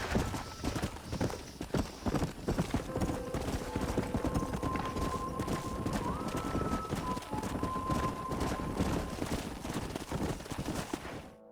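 Stallion's hooves clip-clopping at a brisk, steady rhythm in the video game Red Dead Redemption, loud and close, with game music tones running underneath throughout.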